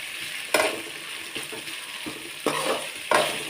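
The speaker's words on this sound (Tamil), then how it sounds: "பாவக்காய் வறுவல் கொஞ்ச நேரத்தில் ரெடி ஆகிடும்." Sun-dried bitter gourd slices stir-fry in a pan, a constant sizzle broken by several scraping stir strokes with a spatula, close up and with nobody talking.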